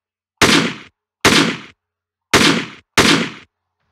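Four loud, sharp weapon shots from an Unreal Engine game weapon system ring out one at a time at uneven intervals, each with a quick attack and a short decaying tail, separated by silence.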